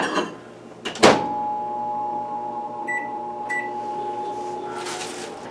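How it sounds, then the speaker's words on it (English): A door clunks shut, then a steady electric hum runs on with a couple of short beeps partway through, a microwave oven operating nearby. "I microwave it for 3 minutes, take it out, chop it up"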